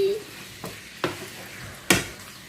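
Shawarma being grilled in a pan without water, with a soft background sizzle broken by three sharp scraping stirs of a utensil against the pan, the last one loudest.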